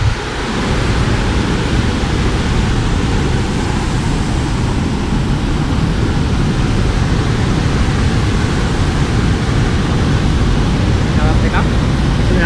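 Water pours over the spillway of the Rathkinda and Ulhitiya reservoir in a loud, constant rushing roar that fills the whole span, while a person speaks beneath the din.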